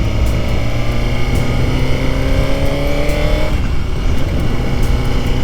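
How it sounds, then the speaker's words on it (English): A 2023 Suzuki GSX-R1000 sport motorcycle being ridden gives a loud, close engine drone that rises steadily in pitch, then drops sharply at a gear change and climbs again, with no voices. "Now this is the actual first time that I'm riding the bike."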